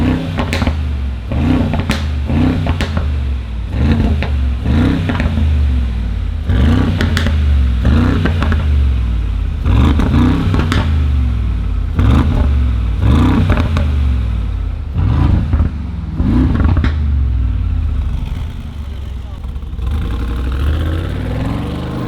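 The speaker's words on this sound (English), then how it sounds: "So when you open that thing up in sport plus, it spits, it crackles, sounds like this." Mercedes G63 G-Wagon with a Borla exhaust in sport plus mode, loud and close, revving hard in repeated bursts with sharp crackles and pops between pulls, no talking.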